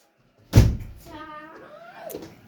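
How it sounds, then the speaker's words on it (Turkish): An indoor door pushed shut lands with a loud, solid thunk near the start, then a voice carries on talking over the fading room sound. "Kapıyı kapat."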